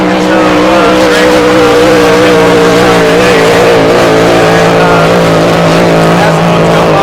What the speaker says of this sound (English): as the boats go by, it's just amazing to hear them